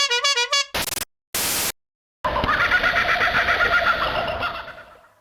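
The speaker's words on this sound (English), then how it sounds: "Can you hear those birds going off?" Farm birds calling loudly in alarm at a large goanna on an Australian family farm, after a few sharp bursts of noise comes a dense, continuous raucous chorus of squawks and clucks that carries on to the end.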